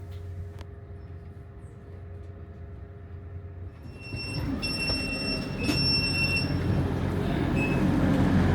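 A Grand Central or LNER train travels between Doncaster and York, heard from inside the carriage as a steady low rumble that grows louder partway through, with faint high squeals and ticks from the wheels.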